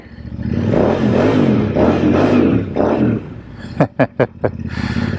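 A Royal Enfield Interceptor 650 motorcycle's exhaust rumbles loudly up close through several rising and falling revs, then gives four sharp, quick blips of the throttle.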